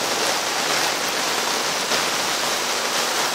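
Floodwater pours into a flooded house in Itaquiraí, a dense continuous rushing roar like a strong torrent, steady and loud throughout, with no voices over it.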